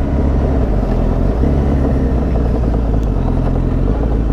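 A Yamaha FZ1n motorcycle rides along on a cold morning, its steady engine drone and road rumble continuous and loud with no voices.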